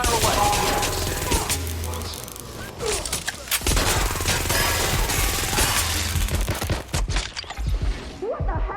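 Gunfire in the video game Watch Dogs Legion, sustained loud bursts of automatic fire with crashes and booms in a dense, continuous barrage that thins out near the end.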